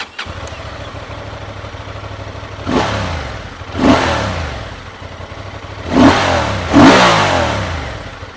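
Honda Transalp 750cc motorcycle on its stock exhaust, standing still, sitting at a steady idle and then blipped through four sharp revs in two pairs, each climbing and falling back, loud and close with no talk.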